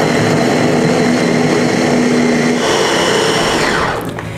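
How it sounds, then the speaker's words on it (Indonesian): An Ideal Life IL216 electric chopper runs steadily at full speed, blending spices with thin coconut milk in a continuous loud whir that slows slightly near the end. "Ini tipe choppernya IL216 dari Ideal Life."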